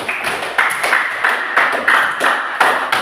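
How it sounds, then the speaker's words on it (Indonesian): A group of people claps hands in short bursts of brisk, light claps, repeated several times in a room. "Tepuk tangan."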